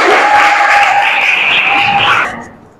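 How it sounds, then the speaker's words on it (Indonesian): Schoolchildren in a classroom clap together in a short, dense burst of applause with some cheering, close and loud, fading out after a couple of seconds. "Beri tepuk tangan."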